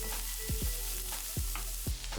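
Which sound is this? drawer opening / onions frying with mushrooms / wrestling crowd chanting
onions frying with mushrooms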